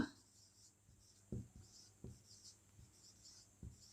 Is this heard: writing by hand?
yes